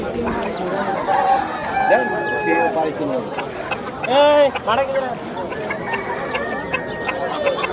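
Chickens and roosters at a busy poultry market, with clucking and a brief crowing call around the middle, heard close amid dense crowd chatter and bargaining voices throughout.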